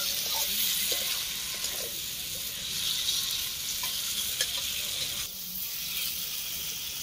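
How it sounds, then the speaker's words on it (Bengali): Soybean chunks and spices stir-fried in a pan over a wood fire give a constant loud sizzle with scraping stirring strokes, ending in a brief quieter dip before the frying swells again. "সোয়াবিনটা দিয়ে আর একটু কষাবো"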